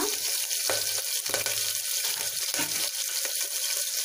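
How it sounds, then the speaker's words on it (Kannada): Sliced onions and curry leaves fry in a pan for sambar, a steady, close hiss of sizzling oil that carries on without a break and has no talk over it. "ಈರುಳ್ಳಿ ಎಲ್ಲ ಚೆನ್ನಾಗಿ ಫ್ರೈ ಆಗಿದೆ"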